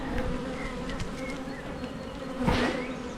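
Honeybees buzz continuously around an open hive during a frame-by-frame inspection, a soft steady drone with individual bees swelling louder as they fly close by.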